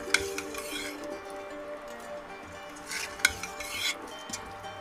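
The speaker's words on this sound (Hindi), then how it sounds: "और पूजा ने छोले अच्छे से मिक्स कर दिए हैं" A spoon stirs chole, a chickpea curry, in a metal pot in a village kitchen, giving soft scraping and a few sharp clinks of utensil against the pot over a faint sizzle, with no talking.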